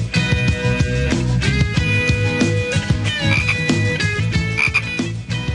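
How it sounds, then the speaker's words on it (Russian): Large frogs from a backyard pond croak in a dense, continuous chorus, loud and close, with overlapping rhythmic calls and no talk over them. "Ух ты, лягушки! Огромные!"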